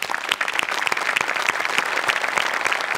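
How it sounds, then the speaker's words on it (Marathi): Enthusiastic applause from the audience at a Marathi comedy show, a dense, steady burst of many hands clapping at close range, loud and continuous with no talk over it. "त्यांच्यासाठी एकदा जोरदार टाळ्या."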